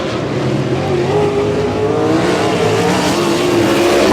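Sprint cars racing at Humboldt Speedway, a dirt oval, with a loud sustained engine roar from several cars running close together and no pause throughout.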